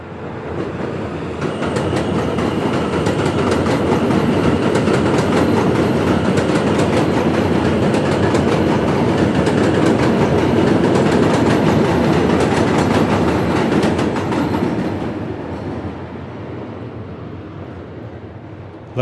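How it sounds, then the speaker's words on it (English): A train rolls past on the rails at close range, with a loud, sustained rumble and a rapid clickety-clack that fades toward the end. "I just sampled that train, so I'm going to do something with that sample."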